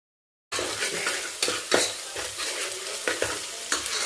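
A spoon stirs fried onions with cinnamon, cloves and lemon in a pan, giving a loud, close sizzle broken by repeated scraping strokes, after a brief silent start.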